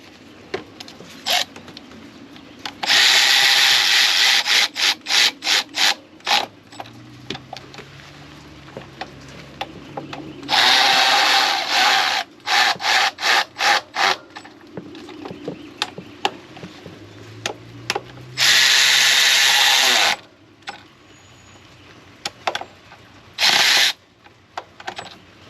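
A power ratchet tightens bolts on the EGR of a 1997-2004 Ford F-150, loud whirring bursts of a few seconds each separated by sharp clicks and quieter mechanical handling, close up with no talking.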